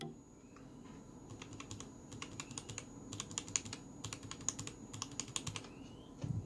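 Mechanical switches on an RK61 keyboard are typed on, with a mix of Outemu and Huano switches, giving quick bursts of crisp clicky keystrokes in uneven clusters, close and fairly quiet with pauses between runs.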